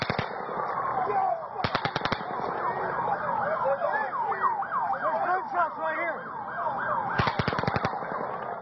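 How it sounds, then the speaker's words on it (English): Bursts of rapid automatic gunfire from the Las Vegas mass shooting, two sharp volleys ringing out over a wailing siren and crowd noise, loud and echoing across the open outdoor scene. "It's around 22 bullets in 3 short volleys."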